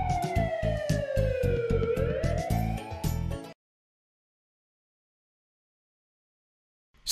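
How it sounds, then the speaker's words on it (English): A siren wails close and loud with a rising and falling sweep for a few seconds, then cuts off into silence. "There's an emergency, the ambulance will be there to help."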